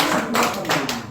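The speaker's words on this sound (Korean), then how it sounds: "박수 한번" Lecture hall audience claps briefly during a guest talk, a few distinct rhythmic bursts of hand claps over a low murmur.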